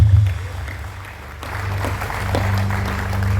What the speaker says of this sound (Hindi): मैं चाहता हूं अपने स्वागत में,